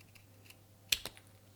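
Scissors make two quick, close snips a fraction of a second apart while trimming a tiny sliver off the end, crisp and isolated in an otherwise quiet room.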